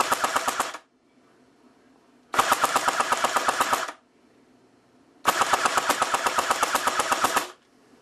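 A T3 .30 cal airsoft gun fires on full auto in three loud, rapid bursts of about a second and a half each, separated by short silent pauses.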